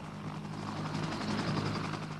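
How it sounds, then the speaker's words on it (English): A military helicopter ferries troops out to a demilitarized zone. Its rotor drone is steady and continuous, with a low throb, and sounds moderately distant with no talk over it. "Every 10 days, helicopters carry a section of 6 to 8 men out to the demilitarized zone"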